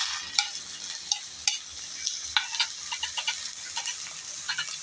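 Half a kilo of washed taro is stirred into onions frying in oil. Repeated clicks and scrapes of the spoon against the pan sound over a low sizzle in an uneven rhythm, with no talking.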